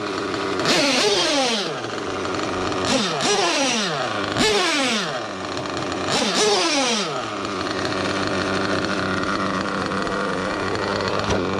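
Novarossi .25 nitro engine in a TLR 8X-T truggy, running slightly rich with a low idle, revving up in repeated sharp bursts that fall away, then holding a buzzing, uneven idle; close and loud.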